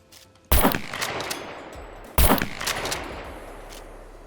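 Two loud shotgun blasts in the video game SCUM, each a sharp booming report with a ringing decaying tail, spaced about a second and a half apart with no talking.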